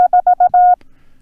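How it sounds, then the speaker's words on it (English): Morse code BT prosign, the break signal, keyed as a steady single-pitch tone: a long dash, three short dots, then a final long dash, clean and close with no other sound, ending in near silence. "which is BT, which is break. It kind of comes across as an equal sign if you're using a decoder"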